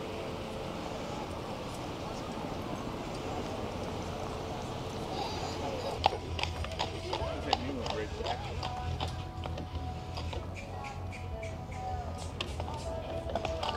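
Hooves of a horse-drawn carriage clip-clop in an uneven trotting rhythm over a busy street on Jekyll Island, Georgia, with people talking and traffic murmur underneath.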